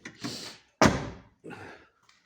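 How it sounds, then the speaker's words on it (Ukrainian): A light aluminium door on a Tesla Model Y shuts against its rubber seals, giving a soft first thump, then a louder, solid slam, followed by another muffled closing thud, all close by with no voices. "Двері легенькі алюмінієві, ну закриваються з резинками."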